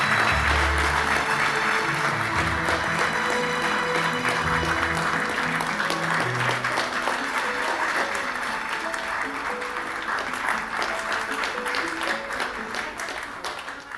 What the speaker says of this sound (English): Ladies and gentlemen, let's give them a warm round of applause.